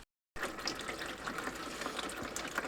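CVT transmission fluid from a Jeep Patriot or Compass streams steadily into a drain pan, a soft continuous splashing trickle with no talk, starting abruptly after a moment of silence.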